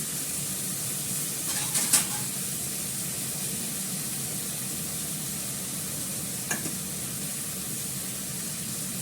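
Fenugreek (methi) greens frying in a pan give a steady, even sizzle throughout, with a couple of brief scraping stirs standing out near the start and again later.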